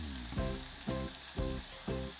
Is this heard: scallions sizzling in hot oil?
yes